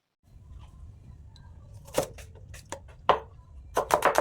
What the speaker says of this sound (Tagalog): So, first, slice lang natin yung onion at garlic.